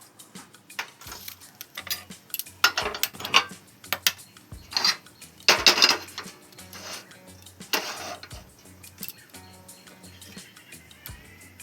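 A metal wok is set down on a kitchen stove with clanks and scrapes, and water is poured in. The clatter comes in irregular bursts at close range with no one talking.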